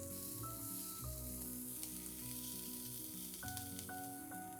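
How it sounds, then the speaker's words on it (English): Spring onions, ginger garlic paste and chopped capsicum sautéing in a pan: a quiet, steady, close sizzle that carries on without voices. "Saute all these ingredients for a few seconds"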